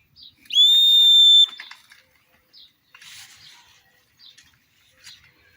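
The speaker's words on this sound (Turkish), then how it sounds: "düdük çal getsin" A whistle blown once, a loud sustained shrill blast lasting about a second, followed by faint scattered sounds and quiet background.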